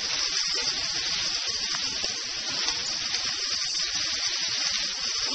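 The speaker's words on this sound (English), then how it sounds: "Onions go in. We'll saute them up a little bit" Onions sautéing in a hot skillet for a Mexican goulash (picadillo) give a steady, even hiss of sizzling with no break, moderately loud and close.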